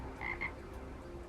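A young frog gives two short, close croaks in quick succession, then quiet background.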